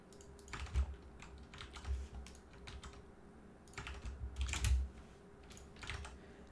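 Someone types on a computer keyboard in irregular bursts of crisp, close key clicks with brief pauses between them, and no voice is heard.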